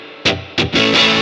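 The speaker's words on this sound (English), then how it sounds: "I like this sound because it kind of sounds like the amp is just about to explode" An overdriven electric guitar played through a Fender Blues Junior tweed amp with no pedals, two sharp gritty strums followed by a sustained distorted chord ringing loud and close.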